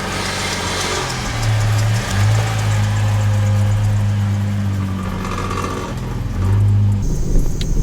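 A 2000 Ford Mustang V6 with manual transmission runs steadily as the car pulls out of a garage. A low, continuous engine drone holds close for nearly the whole stretch, with a slight rise in revs near the end.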